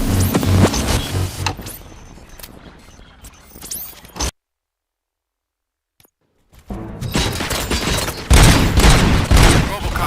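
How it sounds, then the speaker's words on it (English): Gunfire rings out in the RoboCop: Rogue City video game on PS5. Loud bursts of shots and impacts are followed by a sudden silent gap, then heavy, close firing and clatter start again. "Gunshots? What's going on?"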